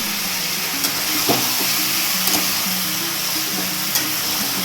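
Chicken coated in ground ginger, cumin, chilli and coriander masala fries loudly in a pan for dhaba-style chicken kosha, a constant close sizzle punctuated by a few scraping stirs, with no voices.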